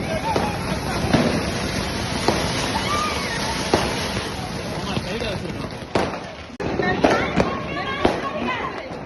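Rapid Diwali firecrackers crackle and pop continuously, with sharp louder bangs standing out, while people talk and shout in the background.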